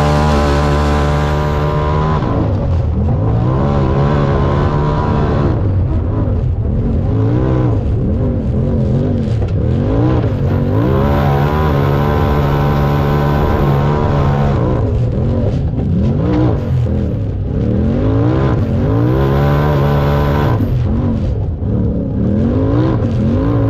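Hill climb race vehicles at a Memorial Day weekend heat race rev hard and steadily, their engines rising and falling as they circle tires and turn barrels, loud and continuous throughout.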